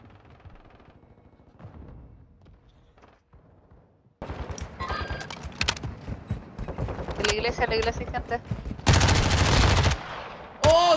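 Video game gunfire erupts after a quiet stretch: loud rapid bursts and sustained automatic fire close up, with someone speaking over the shooting.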